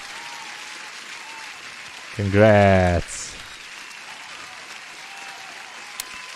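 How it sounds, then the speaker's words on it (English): A short burst of canned applause plays over a live day-trading stream, clapping that lasts under a second, followed by a brief spoken congratulation. "Applause to Methodical Man."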